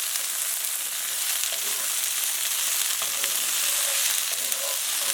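Garlic and chicken fry in a pan for sesame chicken, giving a steady, loud sizzle with faint scrapes and taps as they are stirred around.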